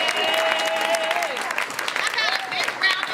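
Applause rises from the audience at a Democratic candidates' debate for District 20 in Maryland, a sustained round of clapping with raised voices mixed in.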